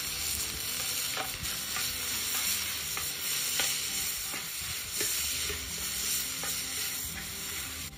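Onion, shrimp and roasted chile sizzle steadily in a pan, a constant close frying hiss with soft intermittent stirring taps throughout.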